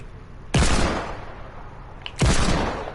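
Two loud gunfire bursts from Fortnite Battle Royale weapons being test-fired, each a sharp blast with a decaying tail, about a second and a half apart over a low background hum.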